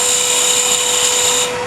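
A multi-purpose rotary tool with a 1/4 inch by 5/16 inch shaft shapes material for a needle case. It gives a loud, steady high-pitched whine with a constant tone that eases off slightly at the end.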